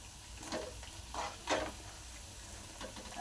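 Coriander vadi fry in oil with a soft, continuous sizzle, broken by a few gentle stirring swishes, fairly quiet and without talk.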